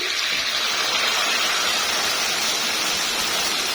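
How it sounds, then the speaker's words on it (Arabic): Hot water pours steadily into a pot of meat for a zucchini dish, a close, continuous rushing splash lasting the whole stretch with no talk. "انا هنزل عليها دلوقتي بشويه ميه سخنين"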